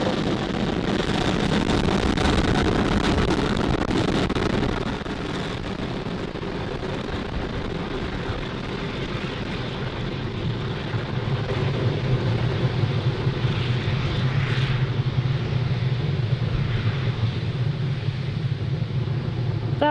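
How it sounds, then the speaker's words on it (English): SpaceX Falcon 9 rocket lifting off from Cape Canaveral carrying Starlink satellites, a broad distant rumbling roar that swells, eases briefly, then builds again into a sustained low thunder. "Falcon 9 has successfully lifted off from Cape Canaveral Space Force Station, carrying our stack of Starlink satellites to orbit."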